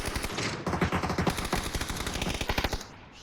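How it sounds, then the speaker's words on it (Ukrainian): Rapid bursts of automatic gunfire in the video game PUBG, loud and sustained for a few seconds before cutting off. "Чому вони стріляють, не зрозуміло."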